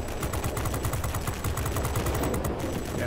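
Rapid machine-gun bursts from a World of Warplanes XF5U fighter plane, dense rattling fire that runs continuously and loudly across the whole moment with no voices.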